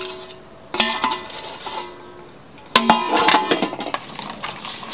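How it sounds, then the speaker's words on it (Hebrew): A spoon stirs cheesecake batter with melted butter in a bowl, giving two clusters of sharp clinks and scrapes against the dish, close and fairly loud, with a quiet pause between them. "מערבבת"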